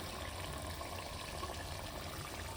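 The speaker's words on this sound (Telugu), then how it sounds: "చలో ఇవి కూడా వాటర్ పోసుకొని" Water poured slowly into a cooking pot for Telangana-style mutton curry, a steady close rushing and splashing flow that runs without a break.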